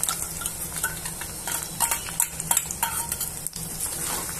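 Green chillies and ginger garlic paste sizzle and fry in a pan for a mushroom tomato masala curry, with steady close frying hiss broken by scraping stirs and light clinks of a spoon against metal.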